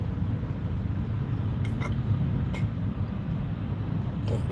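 Steady low rumble of street traffic near 79th, a dense background wash of passing vehicles with a few brief higher noises, no talk.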